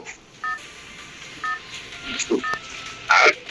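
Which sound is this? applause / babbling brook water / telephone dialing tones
telephone dialing tones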